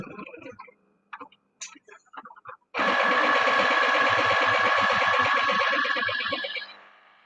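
A Cricut cutting machine set for vinyl, running with a loud, steady mechanical whir and rapid ticking that starts abruptly after a few short clicks and handling sounds, continues for several seconds, then fades out.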